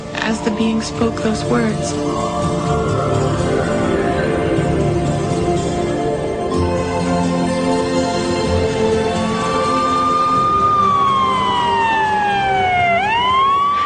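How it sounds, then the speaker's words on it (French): Wailing emergency sirens outside, rising and falling in long sweeping tones that carry steadily through the whole stretch, loud and continuous, with a sharp downward swoop near the end. "elle entend des sirènes à l'extérieur"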